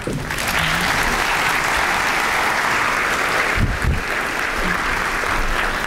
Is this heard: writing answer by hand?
no